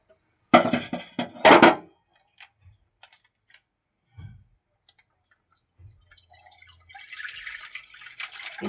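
Milk is poured from a packet into a kadai pan in a home kitchen, heard as a couple of short rustling splashes. Quiet drips and small clicks follow, then a soft trickling hiss near the end.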